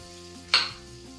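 Onions drop into hot oil in a pan for a squid fry, giving one short, sharp hiss of sizzle that quickly settles back to a low background.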